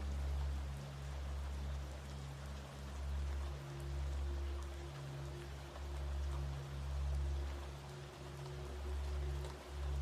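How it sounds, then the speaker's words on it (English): Steady rain falling above a river, a dense continuous patter over a low rumbling flow of water, even and fairly soft throughout, with no voices. "The rain above and the river below join together, weaving a harmony that cradles your mind."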